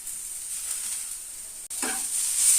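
Green chillies and raw tomato frying in a pan, a steady soft sizzle followed by a brighter hiss partway through as ingredients are stirred.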